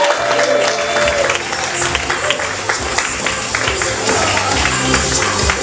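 Live comedy show audience applauding and cheering for a comedian taking the stage, a dense steady wash of clapping and crowd noise with some voices mixed in, loud throughout.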